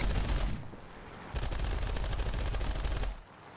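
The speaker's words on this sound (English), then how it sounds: "And I wasted a bunch more of my cannon ammo." Aircraft cannon fire during a War Thunder dogfight between an A6M5 Otsu and a Tempest: two rapid bursts, a short one and then a longer sustained one, over steady engine noise.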